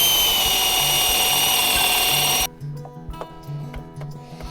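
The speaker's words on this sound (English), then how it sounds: "and drill the next hole" A loud, steady drill whirs into wood for a couple of seconds drilling a leg hole in a wooden reindeer, then stops suddenly, followed by quieter clicks and handling noises.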